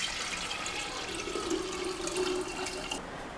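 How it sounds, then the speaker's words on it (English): Tea poured through a strainer into a pitcher, a steady trickling, splashing stream of liquid heard close up for a few seconds, with no talking. "I'm gonna use a strainer and just pour it into the pitcher."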